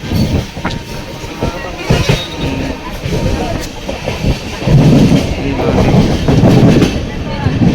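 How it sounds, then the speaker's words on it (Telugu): A train arriving fast at Samalkot junction, with loud rumbling wheels and clickety-clack rhythm building through the clip, heard close and continuous alongside some speech. "చాలా స్పీడ్గా అయితే వస్తుంది ట్రైన్ అయితే."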